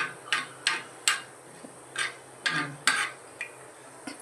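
A utensil stirs chili fry in a pan in a series of light, irregular clinks and scrapes about every half second, fairly close and fairly quiet, with a faint sizzle underneath.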